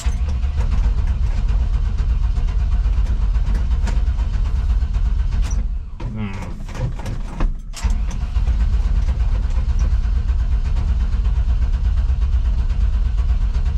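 A 1954 Chevy cabover truck's engine runs loud and close, a steady low rumble that briefly dips and sputters midway before catching and settling back into its even running.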